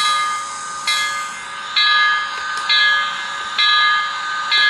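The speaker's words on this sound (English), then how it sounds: "Function 1 is a bell." A model Mikado steam locomotive running on a rolling road rings its sound-unit bell in a steady series of loud, bright clangs about once per second over a constant electronic hum, with no talking.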